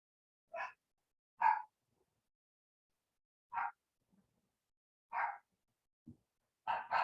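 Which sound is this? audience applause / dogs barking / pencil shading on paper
dogs barking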